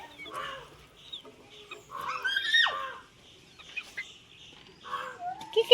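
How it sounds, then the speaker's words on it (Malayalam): Chickens cluck around a home yard, with a series of close, scattered clucks and squawks rising and falling, no talk. "കോഴികൾ"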